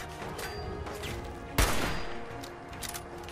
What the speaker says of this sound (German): jetzt packen wir mal wieder den richtigen Sniper aus hier